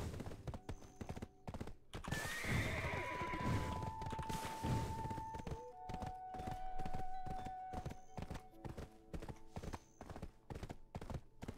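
Rhythmic hoofbeats of a horse being ridden in the online role-playing game Black Desert Online, steady clip-clop throughout with a whinny early on and sustained game tones in the background.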